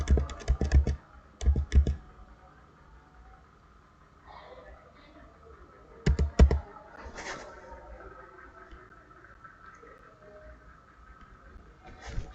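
Patient data being typed on a computer keyboard while filling in a medical record: short bursts of quick, close key clicks separated by pauses, with quiet background noise.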